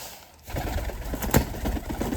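Soft cooing of Mykolaiv pigeons close by, a few low murmuring coos over a steady background hum, with some faint rustling.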